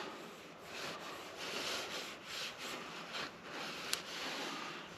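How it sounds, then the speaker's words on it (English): Steady scratchy rubbing of sandpaper on a wooden pen by hand, repeated back-and-forth strokes at close range, fairly quiet, with a brief sharp tick near the end. "do a little bit more sanding on that"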